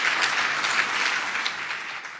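An audience at a lifetime achievement tribute applauds in a sustained, dense wash of clapping that stays loud and even before easing slightly toward the end.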